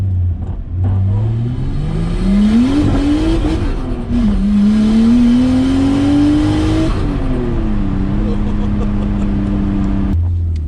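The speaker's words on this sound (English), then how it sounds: "I can hear the turbo." A turbocharged Nissan Skyline R34 engine revs up and down loudly, a rising and falling whine over a deep rumble, held for several seconds before dropping back.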